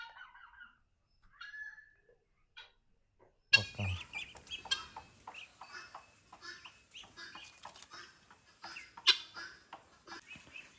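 A chicken clucks repeatedly in short, irregular bursts, close by, after a few quiet scattered chirps at the start.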